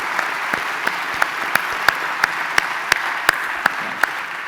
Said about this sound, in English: they all deserve a good round of applause for their support